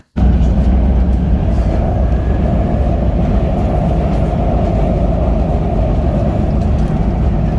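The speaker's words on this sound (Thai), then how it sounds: "เรา กำลังรอรถไฟฟ้าใต้ดินนะคะ" A Vienna underground metro train gives a loud, constant rumbling roar, steady throughout with no pauses and no voices.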